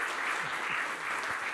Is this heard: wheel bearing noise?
no